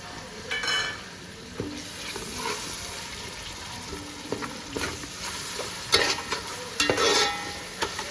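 Tandoori gravy and biryani masala go into a hot pot with a steady sizzle, scattered stirring scrapes and clatters, and bursts of louder frying as the ingredients hit the pan.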